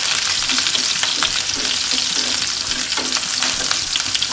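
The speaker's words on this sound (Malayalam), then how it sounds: "മുരിഞ്ഞ മുളകിലോട്ട് പച്ചമുളകെല്ലാം നല്ല മുരിഞ്ഞ് വന്നിട്ടുണ്ടേ" Dried red chilies and chopped green chilies sizzle and fry in hot oil in a pan for a vegetable egg roast, a loud steady crackle with occasional stirring scrapes, no talking.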